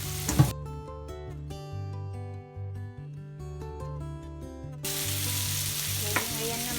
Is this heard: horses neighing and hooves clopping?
no